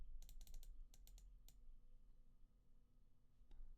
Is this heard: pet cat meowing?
no